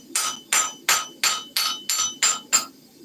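A hand hammer strikes hot iron while forging Viking-style nails, eight sharp, ringing blows in a steady, evenly spaced rhythm, loud and close with no talk.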